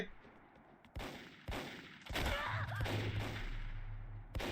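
Gunfire from the shooter video game Micro Volt cracks in several sharp shots and short bursts. It sounds close and loud over game background noise.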